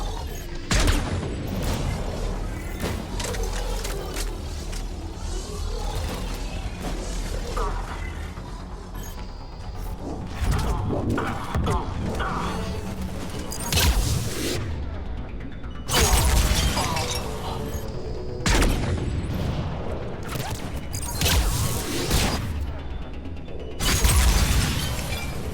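Video-game grenade explosions going off in loud bursts amid constant combat clatter and shattering, with heavier blasts around the middle and near the end of the stretch.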